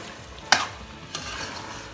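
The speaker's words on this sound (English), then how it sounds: "Just giving it a stir" Mangalorean pork curry, pork bafat with vinegar, stirred in a pot: two brief scraping clinks of a spoon over a faint simmering sizzle, close and quiet otherwise.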